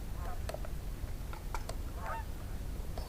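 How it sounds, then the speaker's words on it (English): Several geese honk in scattered calls as they fly overhead near a hen house, the honks clear over a low rumbling outdoor background. "Got some geese flying overhead."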